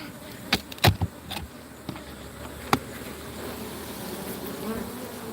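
Honeybees hum continuously around the hives on an overcast, rainy-looking day, a steady close buzzing broken by a few sharp knocks and clicks.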